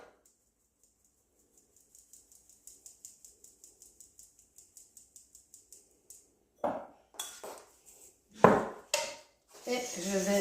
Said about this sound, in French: je vais y rajouter ma farine. Je vais la tamiser